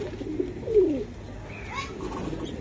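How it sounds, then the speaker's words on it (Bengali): Kasuri pigeon cooing close by, a couple of soft rolling coos in the first second followed by fainter calls against low background noise. "এটা ভাই কাসুরি কবুতর"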